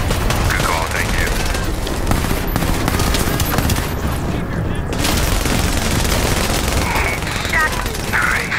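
Sustained gunfire in The Division, loud rapid bursts and overlapping shots with booming impacts, heard close throughout while players talk over it.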